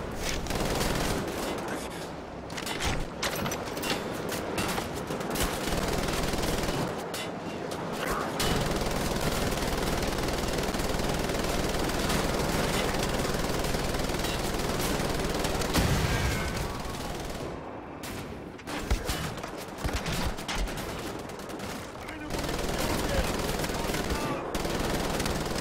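Sustained gunfire in Wolfenstein: The Old Blood, rapid machine-gun bursts and shots rattling almost continuously for about 25 seconds, with a few short pauses between volleys.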